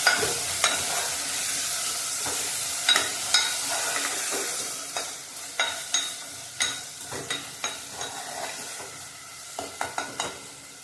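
Drumsticks and lentils sizzle in hot oil under frequent scraping and clinking of a spoon stirring against the pan, with irregular sharp strokes throughout.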